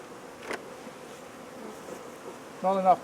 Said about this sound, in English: Lots of wasps still.